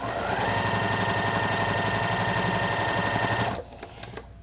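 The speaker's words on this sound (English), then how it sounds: "After I've stitched to where I've gotten to my row, I'm going to back stitch off the row and then keep going." A sewing machine runs steadily as it stitches and back stitches a row of a Christmas quilt, a loud continuous mechanical whir that stops abruptly near the end, leaving a few faint clicks.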